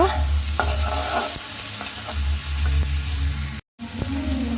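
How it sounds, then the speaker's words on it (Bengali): Onions frying in mustard oil in a pan while being stirred, a steady close sizzle with scraping stir strokes throughout and a brief dropout near the end. "তারপরে আমি এখন পেঁয়াজগুলো ভালো মতো ভেজে নেব"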